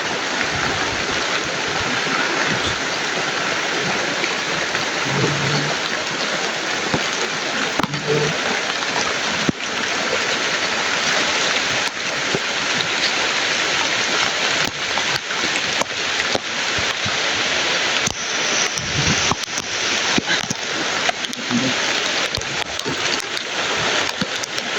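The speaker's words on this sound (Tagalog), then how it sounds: "Ay, sa ulan lang siguro." Steady rain falls throughout, a dense, even hiss with scattered louder patters and bumps, close and fairly loud, with no clear talking.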